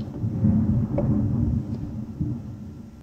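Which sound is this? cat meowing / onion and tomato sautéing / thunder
thunder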